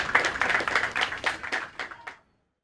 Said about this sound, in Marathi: खरं टाळ्या वाजवा तुम्ही त्याच्यासाठी